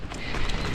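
Small goats' hooves patter quickly over the ground as a herd is chased along, a brief, busy scatter of close steps with no clear voices.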